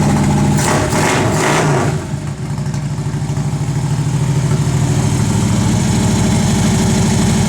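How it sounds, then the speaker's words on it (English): Harley-Davidson motorcycle fitted with a K&N Aircharger intake fires up with a few sharp revs, then settles into a loud, close, lumpy idle with a steady throbbing pulse. "the official test is the fire it up"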